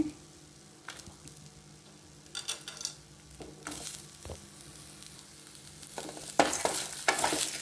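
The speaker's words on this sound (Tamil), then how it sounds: "இப்போ நம்ம அதோட வந்து தேங்காயும் கொஞ்சம் போட்டு வதக்கிக்குவோம் நல்லாவே" Coconut fries with a soft sizzle and occasional stirring scrapes and clinks of a utensil against a pan, growing a little busier toward the end.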